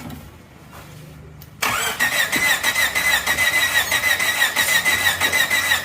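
A Suzuki Jimny, a former racing vehicle that has had a full engine rebuild, cranks and fires up after a quiet moment, then settles into a loud, steady, slightly pulsing idle close by.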